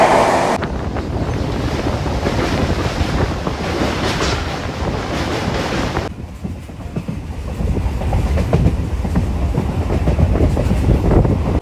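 A Howrah to Digha local train pulls out of Panskura at high speed, a loud, steady rush of wheels and wind that briefly thins and then swells again as the nearly empty carriage rolls on.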